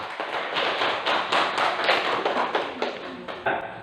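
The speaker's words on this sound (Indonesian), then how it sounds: "tepuk tangan untuk kelompok Pascal" A classroom of students claps for a presenting group, a dense, lively burst of many hands applauding steadily at close range, tapering off near the end.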